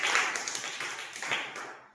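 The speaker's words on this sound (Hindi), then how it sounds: "ताली बजाइए, सही बात है" Brief round of clapping from a group of young children in a primary school classroom, a quick patter of hands that swells and fades over about two seconds.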